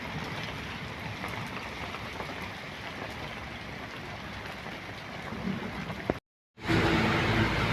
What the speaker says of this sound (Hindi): ये बारिश है सवेल सवेल का टाइम है